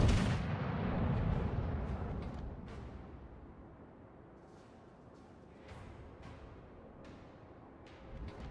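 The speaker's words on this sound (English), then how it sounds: "All stations, concentrate fire on the target." Naval guns boom in the World of Warships game: a heavy opening salvo rumbles and fades, followed by a spaced series of sharper distant shots.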